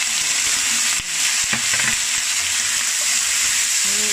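Cooking wine goes into braising pork belly in a pan, bringing a loud, continuous close sizzle with a few sharp crackles and stirring scrapes, with no talking.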